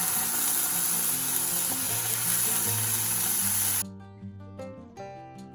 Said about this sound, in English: I'll take a pan and in that I'll add a little ghee and start searing my paneer pieces